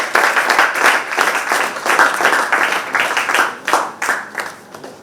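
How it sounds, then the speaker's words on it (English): Audience applause filling a hall as a new member is welcomed on stage, dense steady clapping from many hands throughout, loud and close. "please put hands together with thunder applause"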